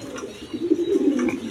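A big Rajgolla pigeon coos in a low, throaty warble that swells in the second half of the moment, fairly close and alone with no voices over it.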